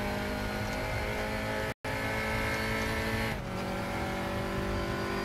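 Formula Junior race car engine from the Raceroom racing game, a steady sustained engine drone with dense harmonic tones, briefly cutting out near the two-second mark and then resuming with a slight pitch shift.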